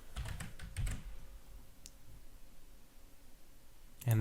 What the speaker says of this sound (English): So I'm going to type in versus